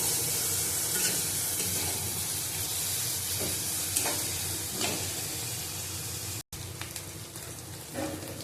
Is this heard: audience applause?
no